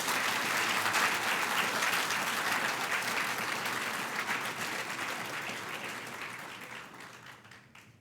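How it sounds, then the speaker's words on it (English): Sustained applause from a graduation audience honoring newly graduated R&R NCOs, a steady dense clatter of many hands that gradually fades toward the end. "Please join me in a round of applause for all of our newest R&R NCOs."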